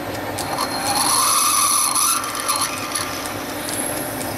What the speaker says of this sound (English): It's the quarter inch hand ream, and I'm just going to use it in the drill chuck